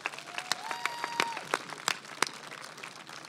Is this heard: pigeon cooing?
no